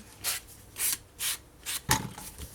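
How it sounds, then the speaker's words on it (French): An old blade is rasped along paper edges for scrapbooking in five short scraping strokes, evenly spaced and close, with no talk. "Ici, il faut que j'aille sabler. Je vais utiliser une mauvaise lame."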